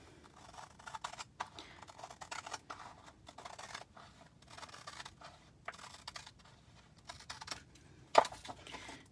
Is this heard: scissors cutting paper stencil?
yes